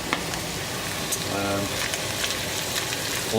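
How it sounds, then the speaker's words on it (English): Chicken fajitas sizzle in a hot pan on a stove, a steady, dense crackle that holds evenly throughout with no voices over it. "Well, this is that sizzle."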